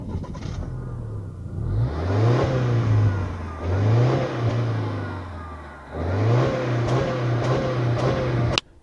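Subaru Outback XT turbocharged flat-four engine revved repeatedly from a stationary car, loud and close, with several rising blips that drop back to idle between them and a longer sustained rev at the end.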